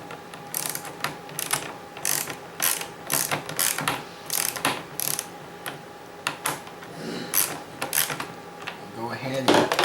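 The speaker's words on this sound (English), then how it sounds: "Make sure our ratchet is in the business of putting things on today" A ratchet wrench tightening bolts on an IBM Model M keyboard, giving rapid uneven bursts of close metallic clicking that stop and start, with someone talking quietly in places.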